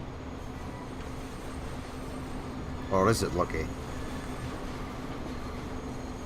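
Trains race in the video game Transport Fever, a low steady rail rumble and hum, briefly broken by a burst of sharper clattering, while someone talks over it.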